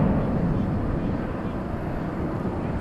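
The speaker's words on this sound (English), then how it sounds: "As this United is taking off" A United Airbus airliner taking off at one of the world's busiest airports, heard as a steady, loud low-frequency jet roar with broadband rumble that holds evenly throughout, with no breaks or voices.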